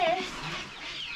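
Silkie chickens in a brooder give a brief, close high cluck or peep at the start, followed by soft rustling and faint background noise.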